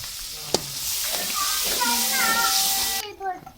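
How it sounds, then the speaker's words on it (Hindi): Loud hissing sizzle as potatoes, peas and radish pods hit hot tempering oil, a sharp clink at the start and a voice faintly in the background. "तड़का मेरा बन चुका है और अब मैं डालने लगी हूँ सब्ज़ी"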